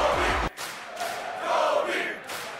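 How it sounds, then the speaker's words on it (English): A crowd at a house wrestling show shouts in bursts of rhythmic chanting and cheering, fairly close, with short pauses between the chants. "And the crowd already excited."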